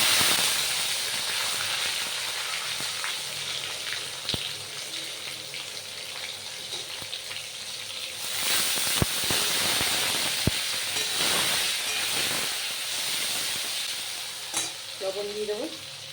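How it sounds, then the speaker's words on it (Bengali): Tomatoes frying in hot oil in a pan for a vegetarian dish, a steady close sizzle and hiss with occasional sharp stirring scrapes and clinks. "তেলে দিয়ে দেবো টমেটোগুলো।"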